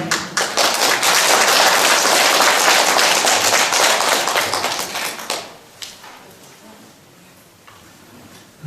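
A church congregation gives loud, sustained applause after a lecture at a Catholic charismatic prayer meeting. The clapping fades after several seconds into quieter room tone with scattered claps.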